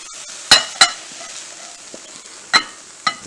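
A utensil stirs garlic into peppers sizzling in a pan, with a few sharp metallic clinks against a soft, steady frying hiss, close and clear.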